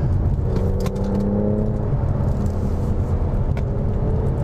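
A 2017 Mercedes-Benz AMG C43 drives on curvy back roads, its engine giving a steady close rumble and whir from inside the cabin with no talk.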